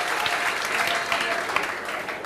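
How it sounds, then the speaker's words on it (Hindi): Applause from a classroom of students fills the whole stretch, dense and steady at close range, with faint voices mixed underneath. "ताली बजाओ"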